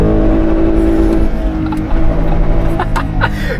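Toyota 2GR-FE V6 engine revving hard toward redline, a loud roaring drone whose pitch drops and then wavers as the revs fall, heard close up with no talk over it.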